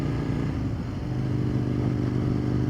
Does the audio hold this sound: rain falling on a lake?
no